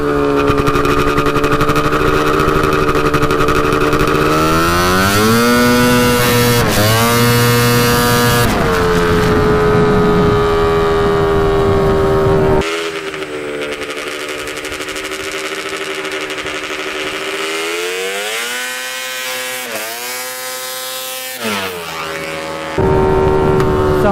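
A custom 110 HP Yamaha Banshee quad runs with no silencer, its loud, raw engine rising and falling through repeated revs and gear-like pitch sweeps, close and unbroken for the whole stretch.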